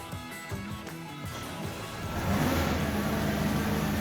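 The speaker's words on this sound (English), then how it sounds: "This is, of course, a diesel, as you can tell." Diesel engine of a 2020 SHERP N amphibious vehicle running steadily nearby, a low mid-pitched rumble that swells louder partway through and holds at that level.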